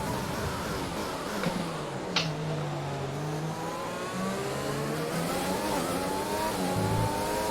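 Formula 1 car engine in F1 2020 on the Canada circuit, a loud sustained high-revving scream with pitch sweeping through upshifts and downshifts, plus a brief sharp click midway.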